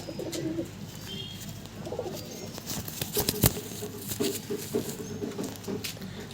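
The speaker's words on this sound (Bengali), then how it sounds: "এই যে হচ্ছে মাদি পায়রাটা" Giribaz pigeons coo in a low, repeated throaty rhythm at close range, with soft rustling and fluttering around them in a loft or coop, and no voices.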